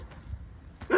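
A German Shepherd gives a single short, sharp bark at the very end, after a near-silent moment with faint low thumps.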